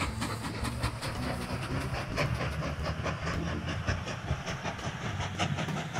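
A train rides a bumpy track in the Mashinky video game with a steady rolling rumble, a low hum and regular clickety-clack beats from the rails. The sound stays close and even throughout, with no talking.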